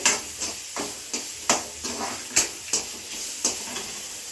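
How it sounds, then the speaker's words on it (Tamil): Vegetables sizzle and hiss as they are stirred and sautéed in a pan with salt for a Tamil Sunday meal, with recurring scraping bursts from stirring over a steady frying sizzle, close and moderately loud. "நல்லா வதக்கிக்கிட்டு"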